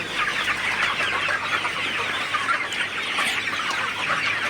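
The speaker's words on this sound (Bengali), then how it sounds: "আপনারা দেখতে পাচ্ছেন আমার ঘরে মুরগিগুলা কীভাবে লাফালাফি করতেছে" A large flock of chickens in a poultry house clucks and chatters continuously, a dense busy murmur of many birds close by.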